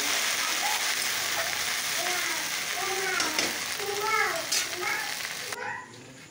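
Okra (bhindi) sizzles and fries in a pan in a home kitchen, a steady hiss running throughout with occasional stirring, while a voice talks faintly over it.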